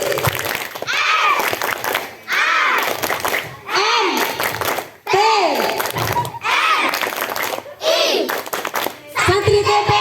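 Children performing the tepuk santri chant at a Quranic school gathering, bursts of rhythmic group clapping alternating with loud chanted lines from a lively young crowd, repeating in short sections throughout.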